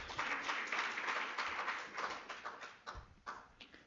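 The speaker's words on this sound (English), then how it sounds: "Another round of applause, ladies and gentlemen." Applause from an audience at a research seminar, a quiet, distant patter of clapping that thins into scattered individual claps toward the end.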